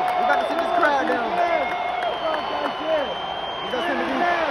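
A crowd at an NFL game between the Carolina Panthers and Dallas Cowboys at AT&T Stadium roars steadily, a dense wash of cheering and whooping that fills the whole stretch with overlapping voices at close to constant loudness.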